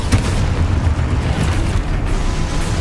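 A fiery Confringo spell explodes in Hogwarts Legacy, a loud, dense, rumbling burst that stays heavy and continuous for a few seconds.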